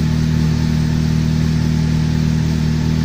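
A car engine that had sat unused for four months runs close by, a loud, steady, even drone with a constant low hum and no clear rises in pitch.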